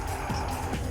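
Car braking with tires skidding in the Sega Saturn racing game Daytona USA, a continuous screeching skid with engine rumble underneath, lasting about a second.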